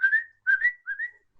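A person whistles at sparrows in a homebrew Dungeons & Dragons tabletop game, imitating a bird call with three short rising-and-falling whistled phrases. The phrases are clear and close, separated by brief pauses, with no other sound.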